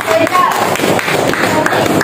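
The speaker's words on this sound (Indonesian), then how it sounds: "Betul, tepuk tangan." Pupils in a classroom clap their hands together in a burst of applause, mixed with excited children's voices and chatter close by.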